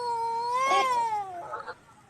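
A cat gives a single drawn-out, wavering meow that rises and falls, followed by a short rough trailing sound, fairly faint and alone.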